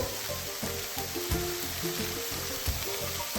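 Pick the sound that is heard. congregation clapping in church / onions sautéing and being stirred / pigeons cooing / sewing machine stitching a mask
onions sautéing and being stirred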